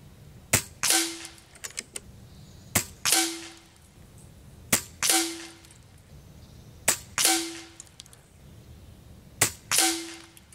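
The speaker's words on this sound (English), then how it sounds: "I'm gonna see about shooting a official group." Five single shots from an Air Venturi Avenger PCP air rifle fired at a target, sharp cracks each followed by a short thump, evenly spaced about two seconds apart, close and alone.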